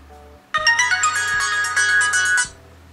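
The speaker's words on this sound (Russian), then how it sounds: "Может быть, есть какая-то музыка в рингтонах" Melodic ringtone on a Blackview A8 Max budget smartphone plays loud and bright for about two seconds, a quick tinkling tune of chiming notes starting abruptly and cutting off, with no talking.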